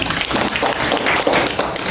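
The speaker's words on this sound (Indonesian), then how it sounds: "Tepuk tangan dulu dong." Students in an economics classroom lesson clap together, a loud, busy patter of many hands close by that runs evenly without pause and without speech.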